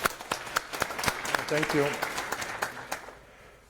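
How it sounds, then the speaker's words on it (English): Conference audience at a FOSDEM talk on the Syd and Youki container runtimes claps for the Youki developers, sharp close hand claps over a brief spoken thanks, fading out near the end. "So I want to give a round of applause to Youki developers."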